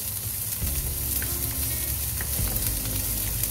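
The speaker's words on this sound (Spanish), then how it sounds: "Cuando ya esté caliente voy a agregar la cebolla." Onion frying in hot oil in a pot, sizzling loudly and close with brief bursts of stirring as the pieces hit the oil, no voices.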